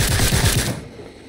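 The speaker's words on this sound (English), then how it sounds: "What is somebody firing at us now?" Rapid burst of automatic gunfire in the horror shooter game Sker Ritual, several quick thumping shots over about half a second, then fading into quieter ambience.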